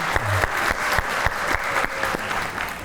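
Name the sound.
applause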